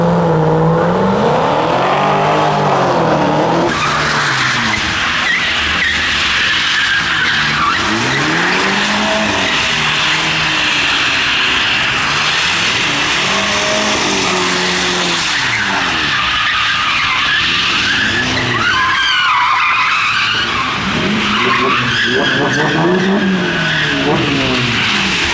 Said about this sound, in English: Burnout happening.